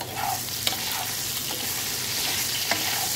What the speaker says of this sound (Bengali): এই আলুগুলোকে কিন্তু লাল লাল করে ভাজতে হবে এবং চাপা দিয়ে দিয়ে ভাজতে হবে